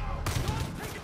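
Gunfire from the Mars gun in Far Cry 5, a dense burst of rapid shots starting abruptly and continuing for about a second, loud and close, with a voice talking under it.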